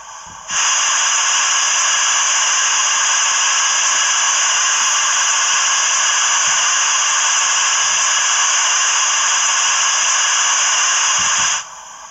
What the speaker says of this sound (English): Let's try the safety valve.